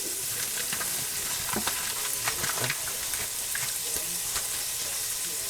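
Onion and green beans fry in a pan with a steady, close sizzle, broken by occasional scraping and stirring clicks, with no voices.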